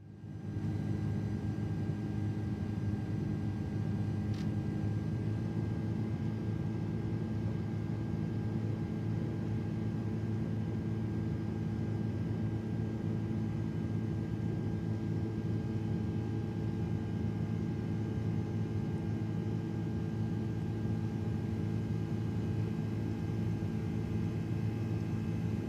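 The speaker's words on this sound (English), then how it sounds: "Well, the engines sound horrible." Steady, droning aircraft engine hum from a plane in Microsoft Flight Simulator 2024, a continuous loud tone that holds level for the whole stretch with no voices.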